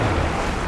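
A four-wheel drive vehicle on prototype mud tires ploughs through water, making a loud, continuous rushing splash with wind buffeting the microphone.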